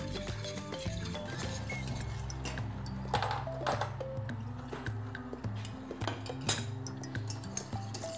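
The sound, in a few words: quickly stirring honey and gelatin dessert mixture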